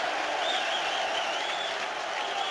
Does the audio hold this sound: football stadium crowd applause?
yes